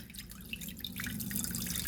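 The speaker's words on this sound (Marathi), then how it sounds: "त्यामध्ये एक ग्लास पाणी घालून घ्यायचं" Water pours and drips into a metal idli steamer on the stove, a steady close trickle that grows slightly fuller, quiet and alone.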